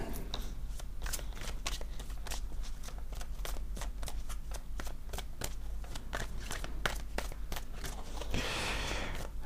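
Tarot cards are shuffled close up in a quick run of crisp, riffling snaps and flicks, steady throughout with a slightly louder flurry near the end; no talking.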